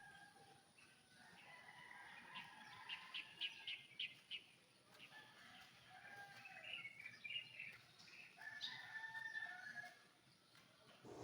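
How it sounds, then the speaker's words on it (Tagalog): Several birds chirp and tweet in short bursts, fairly faint and distant, over a quiet outdoor background in Sorsogon, Bicol. "Naririnig niyo yung huni ng ibon?"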